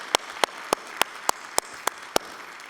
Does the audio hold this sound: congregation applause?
yes